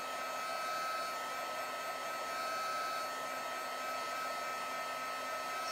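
A hair dryer blows steadily on paint, a constant whirring motor hum with airy hiss that holds at an even level throughout, nothing else heard.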